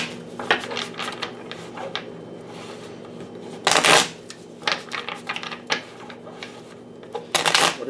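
Tarot cards being shuffled by hand in short riffling bursts, close and crisp, with two louder flurries standing out over a faint steady hum.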